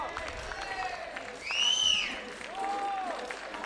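A crowd applauds a climber at the 2015 IFSC Climbing World Cup lead semi-finals in Imst. The clapping and cheering are steady and spread out, with a louder swell in the middle that includes whistles.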